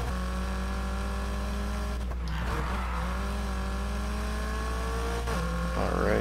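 A race car engine in NFS Heat drones at sustained high revs, sounding unsettled, with brief dips and surges where the pitch drops and climbs again and a faint tire scrub near the end.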